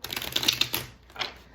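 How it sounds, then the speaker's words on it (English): Tarot cards are shuffled by hand in a quick run of crisp, close riffling clicks, followed by a short pause and one more brief flurry. "I'm gonna give the cards one more shuffle here."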